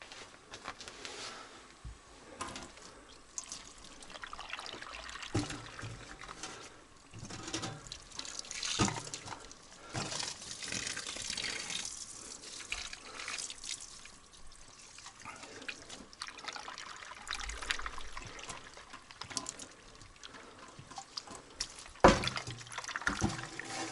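Water poured from a container to fill something on a cold night, heard as an irregular splashing and trickling pour that comes and goes in bursts, fairly quiet and close, with a sharp clink near the end and no speech.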